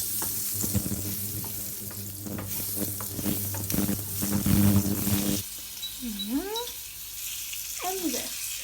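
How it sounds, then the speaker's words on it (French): Kefta meatballs frying in butter in a pan over medium heat, a steady close sizzle with stirring clatter for the first half, then quieter crackling as the pan settles, with a voice talking briefly. "On y verse nos boules de kefta. Et on les laisse cuire tranquillement à feu moyen."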